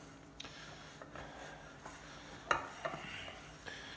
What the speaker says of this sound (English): Use the handle because then you can cut through the dough, making sure you're scraping down the sides of the bowl